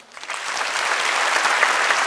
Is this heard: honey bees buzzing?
no